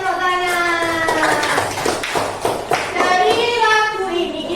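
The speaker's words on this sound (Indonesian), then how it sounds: "Tepuk tangan." Children clapping hands in rhythm during a classroom song about the continents, loud and close, mixed with young voices singing over the claps throughout.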